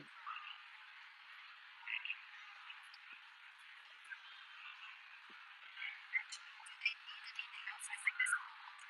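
Frogs croak in a bioactive terrarium, a steady faint chorus with scattered louder calls and clicks, no talk.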